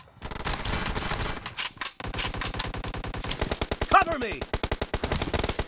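Video game gunfire crackles in rapid automatic bursts, loud and close, with short pauses between volleys while a voice briefly speaks.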